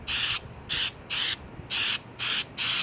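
Flexible rubber sealer sprays from an aerosol can onto a roof to fix a leak. Six evenly spaced bursts of loud, close hissing are separated by short pauses.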